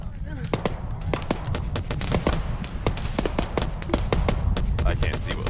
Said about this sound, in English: Something down slope somewhere. Sound of HMG.